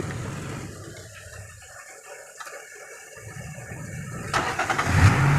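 A car engine being started during a basic driving lesson: a low hum and faint whir, then a rising crank and a louder rumbling catch near the end, heard up close without talking.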